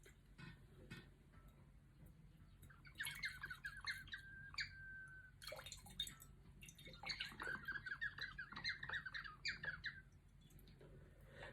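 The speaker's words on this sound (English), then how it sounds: "and it chirps when you pour the wine." A bird-shaped wine aerator gives off bursts of squeaky, warbling chirps as red wine is poured through it, with faint ticking and dripping around them and no talking.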